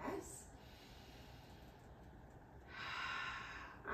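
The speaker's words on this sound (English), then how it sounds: "we're gonna just breathe here as we press" Slow, deep breathing during chair yoga for stress relief: a long breath in at the start, a quiet pause, then a long, soft, airy exhale, close to the microphone, with no talking.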